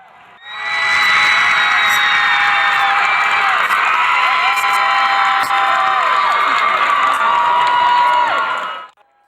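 A school assembly crowd cheers and applauds after a dance performance, with loud whoops, shouting children and clapping in a sustained roar that swells quickly, stays at full volume for about eight seconds, then cuts off.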